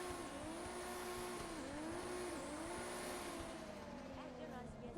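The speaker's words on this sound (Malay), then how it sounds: "Apa saya dengar macam ada kereta lain ni?" Engine of another car in a drift racing video game, a steady revving drone with rising and falling pitch sweeps and tire squeal throughout, fairly faint under the game mix.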